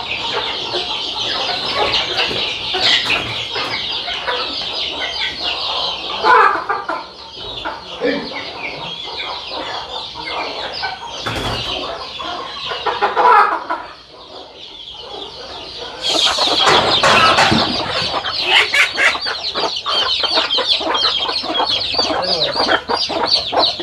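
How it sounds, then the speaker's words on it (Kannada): Native country chickens cluck busily and close by for the whole stretch, with overlapping calls, an occasional crow and some human voices in the mix. "ಅವು ಕೋಳಿ ಹೌದು."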